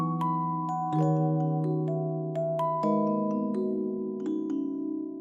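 A music box plays a chord progression, sustained plucked tones stacking into chords with a few bright high notes on top, steady and alone.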